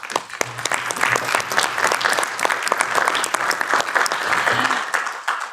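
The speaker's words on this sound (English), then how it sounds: "and we can applaud him." An audience in a parliamentary hall applauds with sustained, dense clapping that holds steady for several seconds, close and loud, with faint talk underneath.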